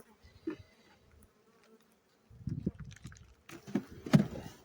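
Honey bees buzz at a hive in low, irregular bursts close by, growing busier toward the end, with faint handling noises and no talking.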